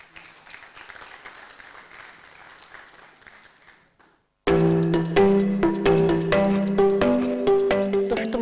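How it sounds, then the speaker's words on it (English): Audience applause at an agriculture pitch day event, a few seconds of scattered clapping that stops abruptly and gives way to loud, rhythmic music. "A round of applause for ProDev."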